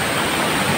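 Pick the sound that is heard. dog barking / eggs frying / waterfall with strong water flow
waterfall with strong water flow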